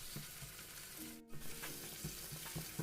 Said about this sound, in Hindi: ये होल दड़ा मिर्च तकरीबन 7 अदद डालकर आपने मज़ीद इस मसाले को फ्राई कर लेना है